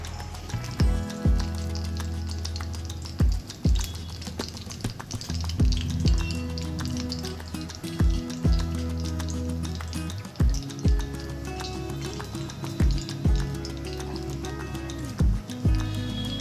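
Oil sizzling in a hot appam pan while biscuit ambade cook, a steady crackling fry with soft knocks and clicks at intervals throughout.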